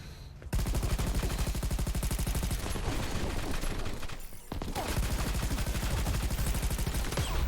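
Rapid automatic gunfire in Crackdown 3, the Wrecking Zone multiplayer mode, loud and continuous with a brief pause midway before the bursts resume.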